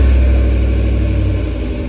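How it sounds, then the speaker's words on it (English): The 6.2 V8 of a 2022 Chevrolet Tahoe Premier with quad exhaust tips, just remote-started, settles into a deep, steady, close idle rumble that eases slightly over two seconds. "Quad exhaust tips, as you heard from the sound of the startup this morning."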